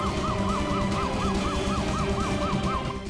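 Steady wailing emergency siren with a regular rising-and-falling sweep, loud and close, repeating about ten cycles over low traffic rumble, with no voices.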